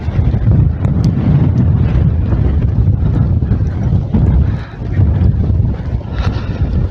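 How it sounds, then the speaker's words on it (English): Strong wind buffets the microphone on an exposed gritstone edge high in the Peak District, a steady loud roar with gusting surges that fills the whole stretch, no voices over it. "Worth getting up here in all this wind."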